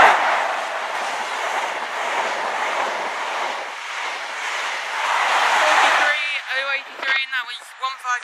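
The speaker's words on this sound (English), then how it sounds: "we've got HST, that's early" An early-running HST high speed train roars past the Spondon level crossing, a loud steady rush of wheels and wind that swells, then breaks up into rhythmic clickety-clack and squealing as the last coaches pass.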